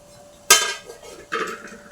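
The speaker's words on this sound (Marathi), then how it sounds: "लोखंडाची कढई आहे माझ्याकडे." Two metallic clanks of a heavy iron wok being set down and shifted, close by, with a brief ring after each knock.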